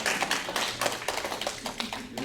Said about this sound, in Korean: 이렇게 얘기하면 박수를 치셔야 돼요